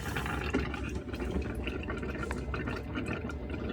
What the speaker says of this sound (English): I just need to make sure that we've got some water in the boiler by drawing it through on the hot side.